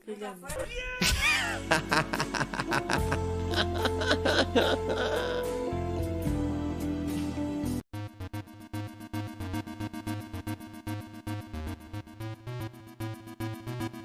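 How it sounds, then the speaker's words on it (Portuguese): Cat on a rooftop meowing and caterwauling in a run of loud, drawn-out cries, followed by a steadier buzzing stretch, with no clear talk over it. "O cachorro botou um pescoço aqui no telhado? Que? é um gato."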